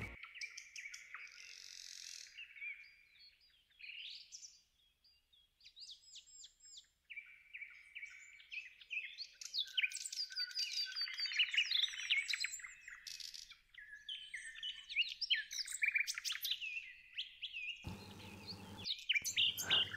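Several birds singing in a forest, with bright overlapping chirps, trills and whistled phrases from close and farther away, nearly continuous, and a brief louder rustle near the end.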